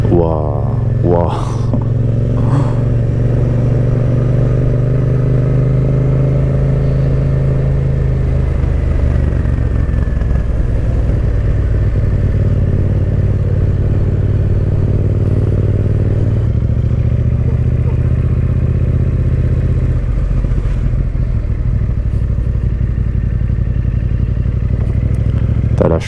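A motorcycle on a road trip toward Normandy rolls along at very low speed, its engine a steady mid-range drone with some clatter. Voices talk and exclaim over it throughout.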